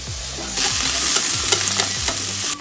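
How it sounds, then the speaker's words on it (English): Onion cooking in a frying pan for Japanese ginger pork stir-fry, quiet at first, then a loud, hissing sizzle bursts up and holds steady with scraping stirs, close by, before cutting off. "Cook the onion"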